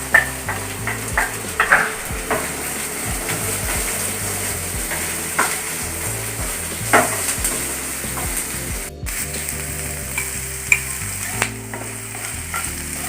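Chopped onions sizzle and crackle in hot oil with cumin, with occasional stirring scrapes and clinks of a spoon against the pan.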